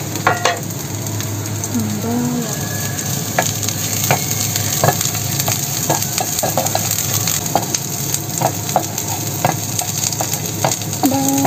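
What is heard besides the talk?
garlic being sautéed and stirred in pan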